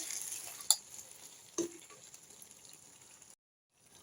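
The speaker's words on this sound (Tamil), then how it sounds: "நம்ம அடி பிடிக்காத அளவுக்கு கலரி விட்டுட்டே இருக்கணும்." Kathirikai kulambu being stirred as it fries in a pan: a soft steady sizzle with a couple of sharp scraping knocks of the utensil, close up, fading to silence at the end.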